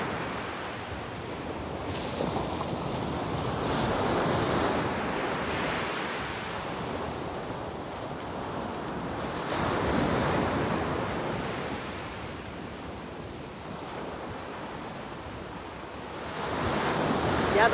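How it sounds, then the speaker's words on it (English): Ocean waves break on the shore in slow repeating swells, each surge of surf building and fading into a constant wash, with wind buffeting the microphone and no voices. "The waves are cool too."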